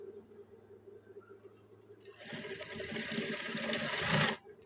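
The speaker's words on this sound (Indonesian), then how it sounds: "Baru kita jahit seperti ini." A sewing machine runs steadily for about two seconds while stitching a trouser waistband, starting after a quieter stretch, its hum and rattle building slightly before it stops abruptly.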